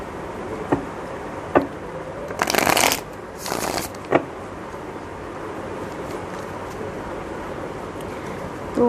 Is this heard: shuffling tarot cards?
yes